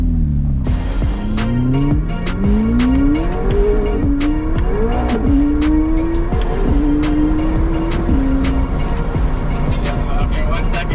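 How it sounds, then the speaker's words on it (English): A supercar launches hard and drifts, its engine revving and rising through gears as the tires squeal loudly and continuously, close up and dominant throughout. "We even caught a little bit of a drift when we launched."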